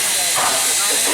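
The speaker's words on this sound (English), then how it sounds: "standing in front of the Durango and Silverton steam locomotive" A Durango and Silverton steam locomotive on the heritage line releases a loud, close burst of hissing steam, broad and continuous for about a second.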